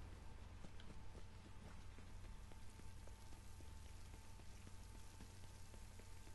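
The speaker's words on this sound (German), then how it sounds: "Da regnet, super." Steady rain in the video game The Division pattering on surfaces with scattered drops, a soft continuous wash of noise at low level throughout.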